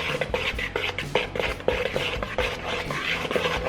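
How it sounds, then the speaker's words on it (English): Flour, baking soda, baking powder, salt and cinnamon whisked in a medium bowl, a close run of quick soft ticks and scratches of the whisk against the bowl at moderate volume. "In the medium bowl, we're gonna add the flour, add the baking soda, baking powder, salt, and cinnamon. All the dry ingredients. We're just gonna whisk it up."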